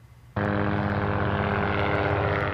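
After a short quiet moment, a loud, steady droning helicopter engine with a rhythmic rotor thump starts abruptly and continues close by, during a wild mustang roundup in Colorado.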